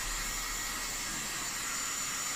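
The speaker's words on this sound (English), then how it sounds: "The heat gun is just great." A heat gun blows hot air onto waxed canvas, making a steady, even rushing hiss with no pauses throughout.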